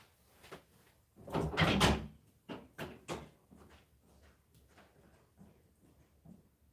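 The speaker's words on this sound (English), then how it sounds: "let me go unlock the door" A door is unlocked and swung open in an antique mall: a cluster of close, solid clunks and rattles, followed by several lighter knocks and taps that fade out.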